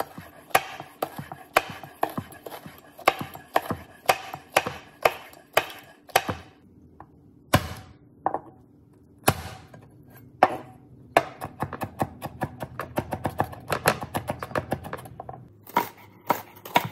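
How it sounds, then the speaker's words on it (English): Knife chopping vegetables on a cutting board for Thai drunken noodles, a steady run of sharp close taps in quick bursts with short pauses, then faster rapid chopping toward the end. "let's start chopping up some vegetables"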